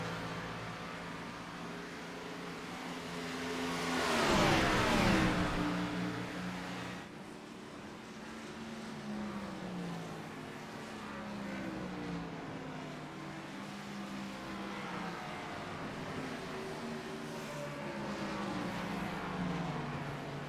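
NASCAR Gen6 race cars in a racing game at Watkins Glen hold a steady, layered engine drone. A car sweeps past loudly around the five-second mark, and the revving tones rise and fall after it.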